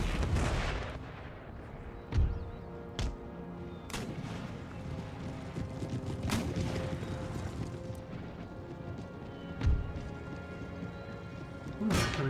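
Artillery fire from 12-pounder cannons in the video game Empire: Total War, a battle against Native forces: scattered heavy booms, some near and sharp, others distant, over a continuous rumbling battle din.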